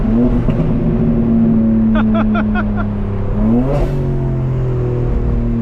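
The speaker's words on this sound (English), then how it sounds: "Oh, the car sounds crazy, guys." A 2025 BMW M4 Competition twin-turbo engine roars steadily nearby, revving up and then changing pitch as it accelerates, with a loud continuous drone throughout.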